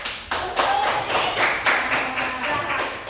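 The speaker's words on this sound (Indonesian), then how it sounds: "Bagus, tepuk tangan." Children in a class clap their hands, a run of brisk, close claps in a loose rhythm with a few louder bursts, loud and continuous with no talking.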